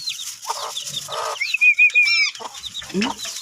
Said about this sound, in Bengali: রান্নাঘরের চালের উপর দাঁড়িয়ে আছে মুরগির চারটে বাচ্চা